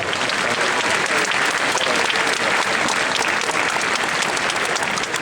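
A crowd at a horse fair welcomes Kari Vepsä with dense, steady applause that holds at an even level for several seconds, with no break and no talking over it.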